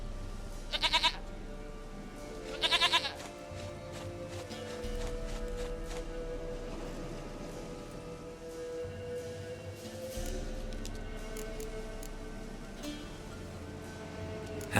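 Two short, quavering goat bleats from The Witcher 3: Wild Hunt ring out close together early on, then a long stretch of steady game ambience and low music continues without further calls or speech.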